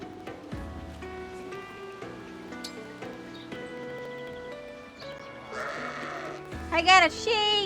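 Sheep bleating in the video game Fire Emblem Engage, a short wavering bleat near the end over looping game music and sound effects, with a person talking over it.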